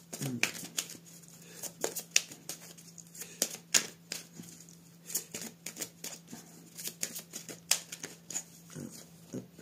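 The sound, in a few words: oracle cards being shuffled and cut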